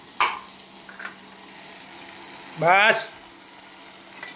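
Cumin seeds drop into a hot pan while fenugreek greens cook, giving a soft, steady background sizzle with a few light clinks; a voice speaks briefly over it.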